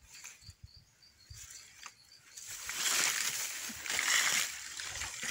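Water flowing outdoors during a mushroom-foraging outing, starting as faint trickles and patters, then swelling into a steady, louder rushing wash from about halfway through.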